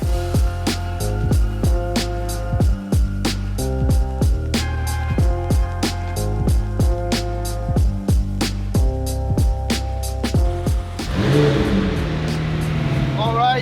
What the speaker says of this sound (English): So just had our first startup of the 675 LT